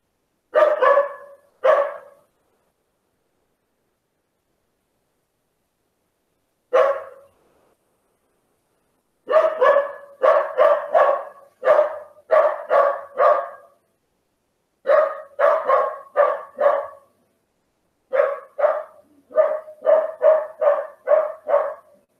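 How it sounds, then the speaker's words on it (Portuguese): A neighbor's dog barks in bursts of repeated sharp barks, several clusters of four to six barks separated by silent gaps, clear and moderately close, with no voices. "O cachorro do vizinho tá,"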